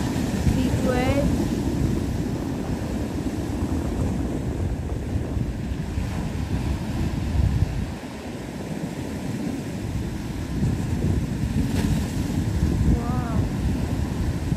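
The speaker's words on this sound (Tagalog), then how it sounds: "Big wave." Big ocean waves breaking along a beach, a continuous roaring surf under heavy wind buffeting the microphone, with a brief lull midway before the rumble returns.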